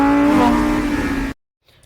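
A Lamborghini Temerario's engine rumbles on Indian roads with a deep, steady exhaust note, then cuts off abruptly into silence.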